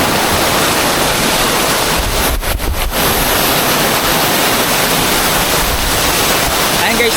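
Bolinao Falls in Bolinao, Pangasinan, heard from directly beneath the plunging water: a loud, unbroken roar of falling water that fills the whole stretch without pause.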